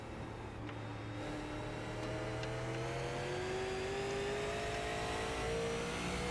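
Super Late Model race car engine in the iRacing sim, a steady loud drone with rising pitch as the car accelerates through and out of a corner, continuous for the whole stretch with no talk.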